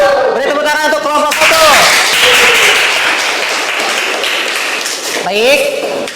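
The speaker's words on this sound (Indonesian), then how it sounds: "Beri tepuk tangan untuk kelompok" Classroom applause for a student group that has just presented, a broad burst of clapping from the class that fades off, with a teacher's voice speaking over it near the start and end.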